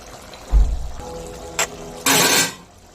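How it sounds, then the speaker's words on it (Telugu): Water splashes into mutton curry in a pressure cooker, a short, loud pour after a dull thud and a brief clink, with no talk. "కొన్ని వాటర్ పోసుకొని"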